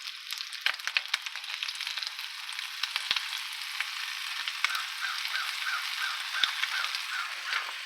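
Meatloaf frying in a non-stick skillet, a soft continuous sizzle with fine crackling and occasional tiny pops, steady and fairly quiet, alone without voices.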